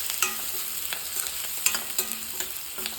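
Jackfruit palya with curry leaves fries in a pan, a constant sizzle broken by rhythmic scrapes and clicks of a spatula stirring close by.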